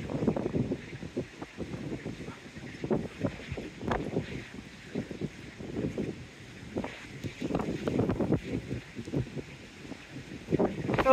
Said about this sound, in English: Oh, blowing a gale up here.